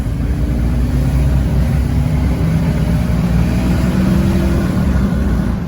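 A GM 6.0 LS V8 in an old farm truck, freshly fitted with a new coil pack, idles at close range with a loud, smooth, even rumble and no audible stumble, holding steady without any talking.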